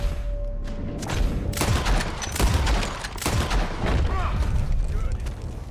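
In Red Dead Redemption 2, a volley of gunshots booms from a barn, repeated loud cracks and thuds over a rumbling battle background with voices mixed in.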